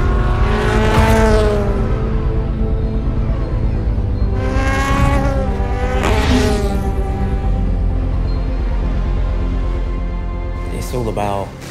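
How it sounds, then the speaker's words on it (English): The number 7 Toyota race car pulls away from pit lane in an endurance race, its engine droning steadily under continuous talk, with a sharp rising rev near the end. "Now to the pit lane, the number 7 Toyota begins its race."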